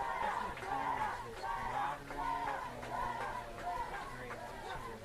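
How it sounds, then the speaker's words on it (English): A home crowd at a high school homecoming football game murmurs and chatters steadily, a dense babble of many voices with occasional louder calls rising over it. "Alcester-Hudson's crowd is ready to cheer on the win here"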